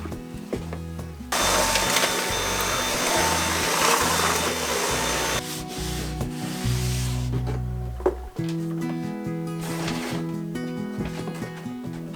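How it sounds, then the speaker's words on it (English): A vacuum cleaner roars close by inside a closet, its whine rising and cutting off in stretches, with knocks and bumps of moving against surfaces between runs. "let's give this closet a little vacuum while we're at it"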